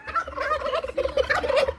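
A turkey gobbling in a home setting, a close, rapid warbling burst that runs for under two seconds with no talk over it.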